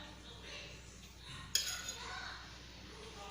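A spoon clinks once against a bowl midway while ghee is added to equal parts maida and rava for badam poori dough, a single close metallic tap over faint kitchen background.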